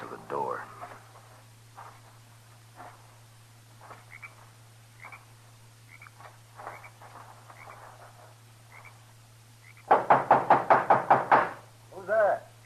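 A rapid burst of about eight loud knocks strikes a hut door in an old-time Western radio drama, standing out after quieter stretches of voices and a steady low hum beneath the scene.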